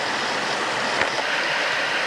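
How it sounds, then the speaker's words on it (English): Water rushing through a wooded glen near the White Bridge at Glenbower, Killeagh, a steady, full roar of flowing stream with no break, close and fairly loud. "In the background you can hear the water rushing through the glen."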